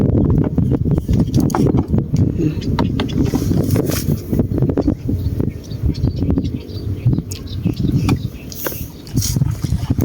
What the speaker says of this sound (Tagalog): Pero napakalakas ang hangin.